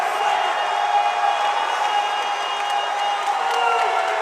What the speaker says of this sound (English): An uproarious crowd at Reynolds Coliseum as North Carolina State gets the victory